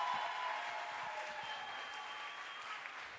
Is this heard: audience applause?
yes